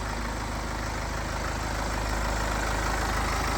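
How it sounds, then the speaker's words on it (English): The twin-turbo diesel engine of a BMW 420d Gran Coupe idles steadily nearby, a constant low rumble with a faint mechanical clatter and no change in pace. "So that's our twin powered turbo diesel engine."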